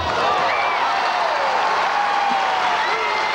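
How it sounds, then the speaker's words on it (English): An arena crowd at a men's gymnastics competition claps and applauds loudly and continuously, a dense roar of clapping that fills the space. "You can hear the audience applause rising in a series of crescendos"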